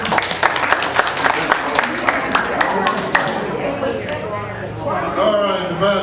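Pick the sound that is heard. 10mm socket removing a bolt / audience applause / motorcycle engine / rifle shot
audience applause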